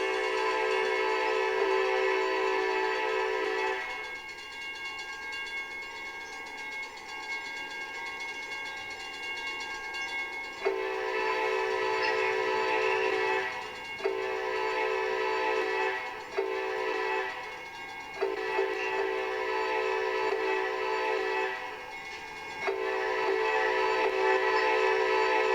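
Horns from trains in a multiplayer train video game, several long sustained harmonic blasts with brief gaps, loud and close, steady engine rumble beneath, no voices.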